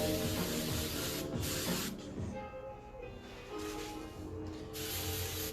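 Hairspray is sprayed onto a wig in long, loud hissing bursts, close by, separated by short pauses.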